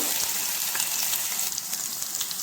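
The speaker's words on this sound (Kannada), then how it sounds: "ಈಗೆಲ್ಲ ಪೇಸ್ಟನ್ನು ಇದಕ್ಕೆ ಹಾಕಿದ್ದೀನಿ. ಇದನ್ನು ಚೆನ್ನಾಗಿ ಹುರ್ಕೊಳ್ಳೋಣ." Masala paste frying in hot cooking oil in a home kitchen as part of making a mushroom pepper gravy, giving a steady, close, bright sizzle with occasional crackles and stirring.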